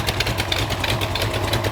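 Mopar LA small block V8 with a swapped intake idling, a steady low rumble with a busy, ticking upper layer; close, even and continuous, with no voices.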